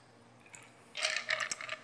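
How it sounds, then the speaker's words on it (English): Coca-Cola Manhattan cocktail poured over a few ice cubes into a martini glass, a short splashing pour with faint clinks of ice, close and fairly quiet, lasting about a second. "we're just going to pour that into this glass"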